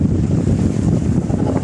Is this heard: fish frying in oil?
no